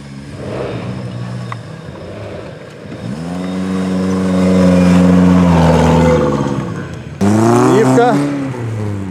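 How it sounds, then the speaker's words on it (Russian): A Lada Niva off-road car revving hard during a hard-class race, its engine note rising and falling loudly and close, with a sharp second engine burst near the end and people talking nearby. "машина тоже там шумит"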